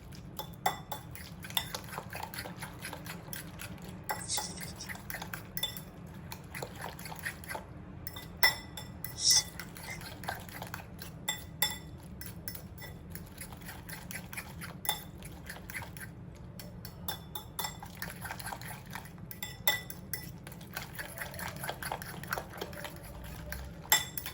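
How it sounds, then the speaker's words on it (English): Fried rice ingredients with cayenne pepper mixed together in a bowl bring a steady run of utensil clinks and scrapes against the dish, fairly close and alone, with small irregular knocks throughout. "Now mix everything together to combine."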